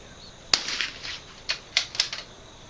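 .22 rifle shots at a steel target during an NRL22 match in Evansville, Indiana, heard as a few sharp distant cracks and faint metallic pings spaced irregularly over about two seconds.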